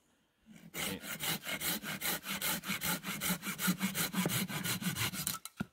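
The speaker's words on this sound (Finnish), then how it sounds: "sahataan tästä nyt muutama pätkä" Wood is cut with a Silky BigBoy pruning saw in a fast, even back-and-forth rhythm of rasping strokes. The strokes are close and clear, start after a brief quiet moment and run without a break. No one speaks.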